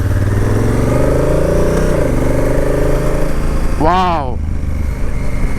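A Honda Africa Twin motorcycle engine drones loudly throughout, pitch shifting as it shifts gears, with a brief exclaimed word partway through.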